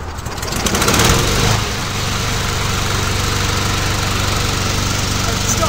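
An Einhell petrol lawnmower starts with a pull-cord surge, then its small engine settles into a steady, loud, close idle with a buzzing, slightly knocking drone.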